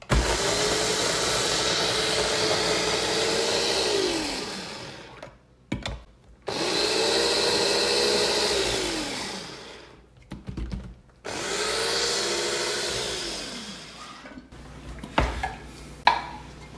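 An electric mixer chops red onions in three loud, whirring bursts of several seconds each, its pitch dropping as each run winds down, with clattering and knocking of the bowl in the pauses between.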